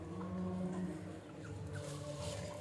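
Country chickens cluck softly and intermittently in a rural yard at feeding time, a low continuous murmur of fowl without speech.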